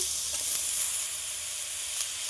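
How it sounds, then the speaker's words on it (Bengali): Chopped onions, beans and peas sizzle steadily in a pan while being stirred for veg momo filling, a constant close hiss with faint stirring scrapes. "এইভাবে নেড়ে চেড়ে দুই থেকে তিন মিনিট সময়ের জন্য ভাজা ভাজা করে নেব"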